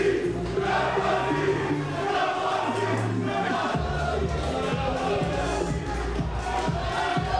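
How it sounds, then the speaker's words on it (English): A packed arena crowd at a gladiator-style fight night roars wildly and continuously after a takedown reversal, a dense, loud wall of cheering and shouting that never lets up. "The crowd go wild. It's about as wild as I've seen the crowd go."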